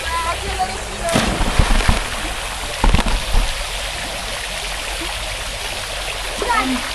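Water splashing and rushing in an outdoor spot at Monte San Biagio, a steady flow with louder splashes breaking in at intervals.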